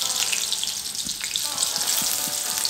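Onions sizzling in hot oil for a curry-leaf capsicum egg gravy, a steady close frying hiss with small pops, no voices.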